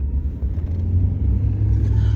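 Car engine rumbling steadily while creeping along a narrow mountain road coated in black ice near Shipki La Pass, close and continuous with no talk.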